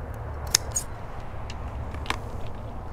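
Pruning shears cut a branch off a crepe myrtle: a couple of sharp, isolated snips, close and crisp, over a quiet outdoor background.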